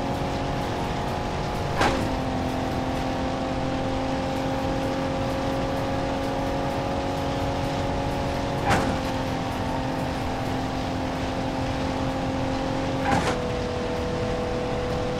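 Damaged Mercedes-Benz engine in BeamNG.drive runs at a steady idle hum, broken by three brief sharp clicks or knocks spaced several seconds apart, with no talking.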